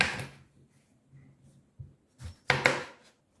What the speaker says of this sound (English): Next, I cut the cucumber.